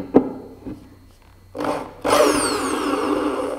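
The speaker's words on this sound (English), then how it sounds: "you want to unscrew this, so change the direction" Bosch GSB 500 RE corded impact drill run in reverse to back out a screw: a few faint knocks, then a brief motor whir that cuts out and starts again as a louder, sustained whine.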